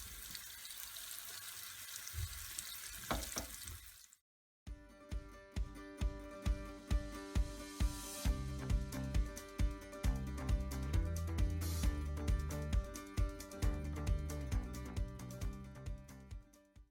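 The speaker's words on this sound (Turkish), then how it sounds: "Zeytinyağı ısınınca köfteleri koymaya başlıyoruz." Meatballs hiss and sizzle in hot olive oil, a quiet frying crackle broken by a string of sharp, regular clinks and taps as they are set into the pan one after another.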